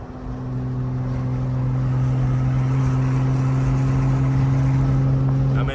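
Turbocharged BMW M535i engine droning steadily under acceleration while cruising in seventh gear, a loud, constant low hum with road noise, heard from inside the car.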